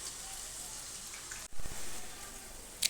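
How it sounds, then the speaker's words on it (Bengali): A little water is poured into pumpkin cooking in a pan for veg dhokar dalna, a short splashing burst in the middle of a quiet kitchen, with a brief sizzle-like hiss before and after. "কুমড়োটা যাতে গলে যায় তার জন্য সামান্য একটু জল দেব।"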